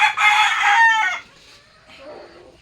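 A rooster crows loudly and close by in one drawn-out call, followed by softer clucking from chickens as the sound fades.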